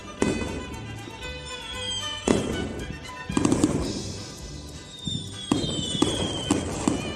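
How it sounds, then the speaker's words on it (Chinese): Lunar New Year's Eve fireworks bursting a short way off: four or five booming volleys with crackling tails, some preceded by rising whistles, spaced a second or two apart. "看那边还放着烟花呢"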